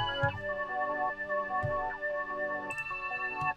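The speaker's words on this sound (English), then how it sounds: "we got this other Analog Lab melody that I layered" A tonal Analog Lab synth preset called Angie plays a layered melody of sustained, bright harmonic notes with soft plucky attacks recurring in a slow rhythm, clean and alone without any voices.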